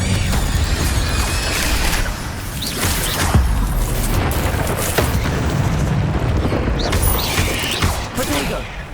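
An Incendio fire spell is cast in Hogwarts Legacy, a loud whooshing burst amid dense, continuous combat noise with rumbles and crackles, and no talking.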